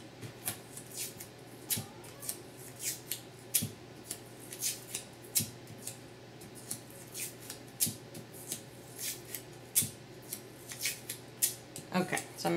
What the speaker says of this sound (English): I'm just going to rip a few pieces of tape so that I don't have to do that while I'm working